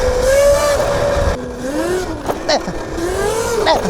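An ETM RTR electric motorcycle with a high-torque motor and stock chain rides through a neighborhood, giving a rising and falling motor whine with brief surges under throttle squeezes.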